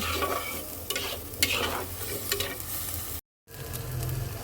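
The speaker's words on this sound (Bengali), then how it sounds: "তো চলো মশলাটাকে সুন্দর করে কষাই" A spice paste with turmeric, coriander powder and salt is stir-fried in a pan, with a continuous sizzle and scraping stirring strokes that briefly cut out before resuming.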